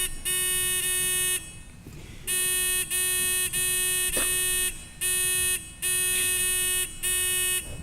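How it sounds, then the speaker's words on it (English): Quiz game buzzers at a Knowledge Bowl final being tested: a loud electronic buzz sounds about seven times in a row, each held for roughly a second with short gaps between. "Just test the buzzers."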